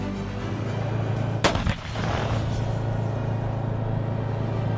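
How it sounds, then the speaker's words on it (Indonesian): An M109 self-propelled howitzer fires a single sharp, heavy report that rolls off into a low rumble over a steady background drone. "penembak artileri M109 yang dipasok oleh Amerika"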